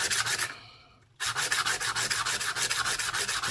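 Sandpaper rubbed back and forth on a coin ring heart pendant, close and fairly loud rhythmic scraping strokes with one brief pause before the steady strokes resume.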